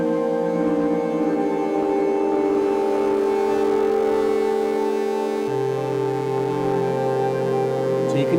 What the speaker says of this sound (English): beautiful kind of ambient sort of feedbacking. Almost got a tape echo-y kind of vibe to it